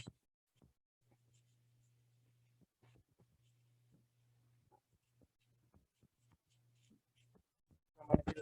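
Faint scratching strokes of a pen writing a fraction by hand, soft irregular ticks over a low steady hum, ending with a brief louder rustle.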